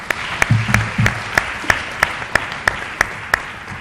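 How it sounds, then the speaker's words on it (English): Applause from a lecture audience for a long-serving professor: a sparse, steady run of sharp, evenly spaced claps over a faint low murmur, fairly close and moderately loud. "Please, another round of applause for him."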